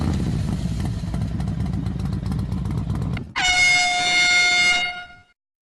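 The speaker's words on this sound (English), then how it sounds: "The engine is low and the horn is high." A rumbling vehicle engine runs for a few seconds, then a loud, sustained high-pitched horn blares before cutting off.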